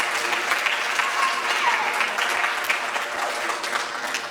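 Sustained applause from a middle school jazz concert audience, honoring the students' parents, with dense steady clapping that stays loud and even throughout, with no other sound standing out.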